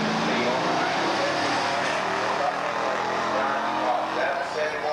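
A 1971 Ford Mustang with a 351 engine and four-speed at a muscle car drag race at Beech Bend, a loud continuous engine roar filling the air, with an announcer's voice mixed in.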